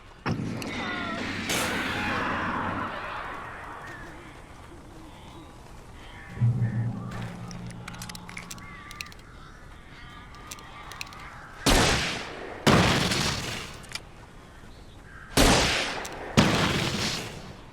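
Weird birds attack in the Alan Wake video game, with flapping and shrieking bursts in several loud waves, broken by quieter stretches of rustle and scattered clicks.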